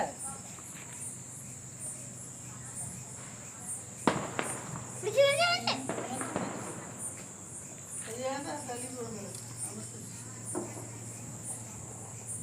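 Deepavali firecracker lit and burning, a sharp crack followed by fizzing, sputtering bursts at close range over a steady background hum, with people talking nearby.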